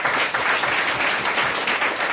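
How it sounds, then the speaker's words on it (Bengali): Audience applause at a health workshop rolls on as a thick, steady wash of many hands clapping, loud and close, with no voices over it. "তো আমার ফুল টিমের জন্য একটা বিগ ক্ল্যাপ"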